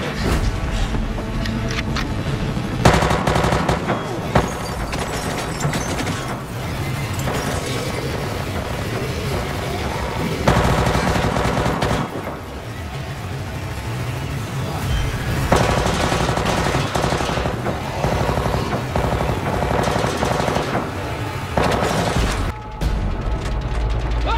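Sustained machine gun fire from a TV drama, dense continuous bursts with booming impacts, loud and close, running almost unbroken with no talking.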